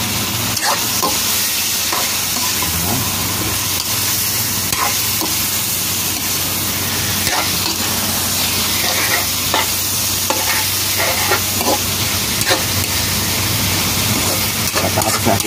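Fried tofu and other ingredients are stir-fried in a pan, giving a loud, continuous sizzle broken by frequent scraping and tapping of a utensil stirring close by.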